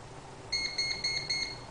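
Four crisp electronic beeps from an AirWolf air rifle's shot counter come at an even, rapid pace, each sharp and close over quiet room noise.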